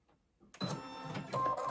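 A computerised sewing machine starts up after silence and begins stitching, a close mechanical whir with brief tonal motor whines and steady needle chatter.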